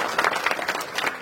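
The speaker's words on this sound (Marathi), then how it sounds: "यांच्यासाठी जोरदार टाळ्या वाजवा" Clapping from the audience at a Marathi kirtan comes in a short, lively burst of close, broadband claps lasting barely over a second.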